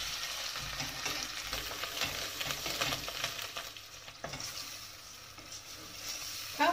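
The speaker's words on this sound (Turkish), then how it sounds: "Şimdi havuçlarımızı ilave edelim. 5-6 dakika sofeleyelim." Carrots sauté in a pan with tomato paste, making a soft, steady sizzle with intermittent stirring scrapes, faint and close with no voices.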